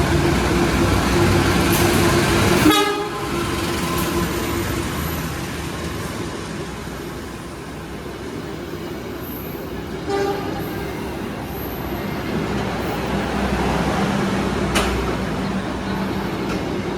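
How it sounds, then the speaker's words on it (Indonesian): A Pasundan passenger train passes through a station with a loud, sustained rumble and a sharp horn toot near the start, then carriages roll by steadily with a few clanks. "Ada kereta Pasundan yang melintas langsung jam 9 kurang ya."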